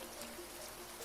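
Rain falls in the farming game Grimshire as a faint, steady patter and hiss of drops, continuous and quiet, with no voices.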